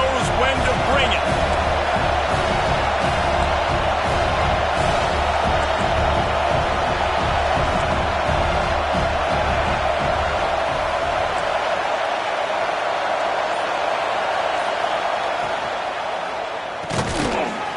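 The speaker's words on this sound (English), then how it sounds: "This crowd knows when to bring it." A large football stadium crowd at a Michigan Wolverines versus Alabama game roars continuously and loudly, a dense sustained cheer that thins out near the end.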